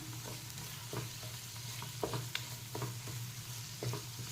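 A large tomato sizzles in a hot pan of frying spices, with a steady crackle and repeated scraping clicks of a spoon stirring, close and continuous.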